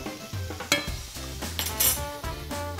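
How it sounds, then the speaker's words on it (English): Radishes and cucumbers sautéing in a pan get a quick stir, steady sizzle under scraping and clinking utensil strokes, close and clear, with music playing along. "I'm gonna go check up on my radishes over here real quick, give it a quick stir."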